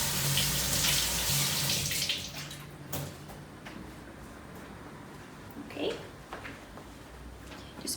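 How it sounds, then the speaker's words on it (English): Water runs from a kitchen tap as hands are washed, starting as a loud gushing flow and then dropping to softer splashing and dripping, with a voice talking over it. "And wash your hands."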